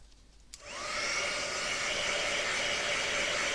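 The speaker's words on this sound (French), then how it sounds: "Je le mets là juste 2 secondes, le temps de bien remettre ma poudre. Le heat gun." Heat gun switching on and blowing hot air over powder-coated parts, a steady loud rushing whoosh that starts abruptly and holds on close by, with no talk.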